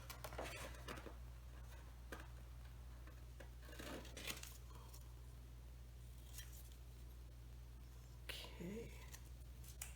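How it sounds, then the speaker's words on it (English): Scissors snip through paper for a mini junk journal craft, a few short crisp cuts close by over a steady low hum, with a soft spoken word in between. "I'm gonna get my scissors and cut that piece"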